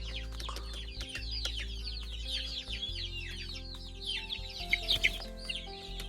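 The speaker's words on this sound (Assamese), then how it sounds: "ফেলাই দিয়াৰ লগে লগে লোকেল মুৰ্গীবিলাকে আহি গ'ল খাবৰ কাৰণে" Local village chickens cluck and chatter in a busy overlapping flock as they hurry in to eat scattered grain, set against a steady low mechanical hum, with a few sharper, louder calls near the end.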